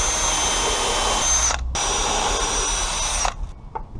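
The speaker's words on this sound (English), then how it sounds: "we're going to want to pre-drill all of our holes for our screws." A power drill pre-drills screw holes for an elevated garden bed, whirring loudly and steadily for about a second and a half, stopping briefly, then running again before winding down, with faint rattles after.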